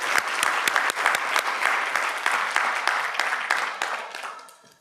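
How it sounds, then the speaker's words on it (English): A conference audience breaks into enthusiastic applause, dense clapping close by that holds steady for several seconds, then fades out toward the end. "please join me in giving them a great big round of applause"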